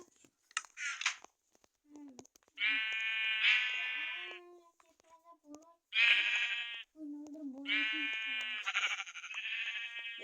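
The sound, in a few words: sheep bleating in a video game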